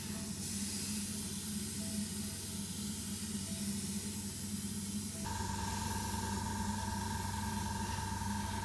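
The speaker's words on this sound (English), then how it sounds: "it was actually the most fun part to airbrush so far" An airbrush spraying paint onto a 3D printed figure, a close, continuous airy hiss that holds steady with a slight shift in tone partway through.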